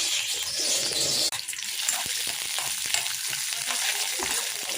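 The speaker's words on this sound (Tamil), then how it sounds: "இப்போ நம்ம கடுகு போட்டுக்கலாம். ஒரு 2 காஞ்ச மிளகாய், ஒரு பச்சை மிளகாய் எடுத்துருக்கோம். கொஞ்சம் கடலைப்பருப்பு ஆட் பண்ணிக்கலாம்." Mustard seeds, two dried red chilies, a green chili and chana dal crackle and sizzle in hot oil, a steady dense frying hiss with faint pops and stirring clicks throughout, close and alone with no voices.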